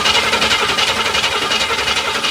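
A 1966 Cadillac Eldorado engine cranks and churns steadily just after a carburetor rebuild, a dense, continuous mechanical roar with no pauses and no voices over it.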